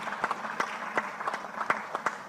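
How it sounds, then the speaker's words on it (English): Applause as a moderator walks onto the stage at a finance conference, a light crowd clapping with a few sharp, distinct claps standing out, fairly close and moderately loud. "A round of applause as she comes to the stage."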